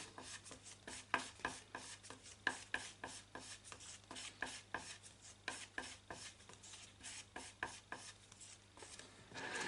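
Body filler is mixed with a small amount of hardener, heard as rapid rhythmic scraping and tapping strokes of a spreader against a board, repeated steadily throughout, close and quiet, with no voices.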